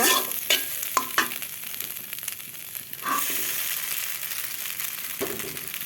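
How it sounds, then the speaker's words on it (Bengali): Beaten egg seasoned with salt and cumin is fried in a pan: a few sharp clinks and taps, then a louder, steady sizzle that fills the rest of the moment, close by and without talk. "এখন ছেড়ে দিব ডিমটা এখন সুন্দর করে ভেজে নিব"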